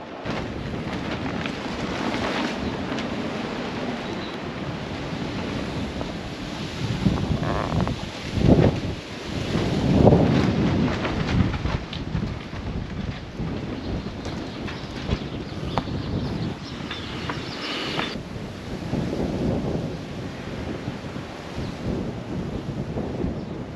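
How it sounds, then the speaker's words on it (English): Strong wind gusts buffet an old RV: a continuous roaring rush with rumbling surges and louder bursts near the middle, close and heavy, with no voices. "all of a sudden, just a wind gust comes through and knocks things over"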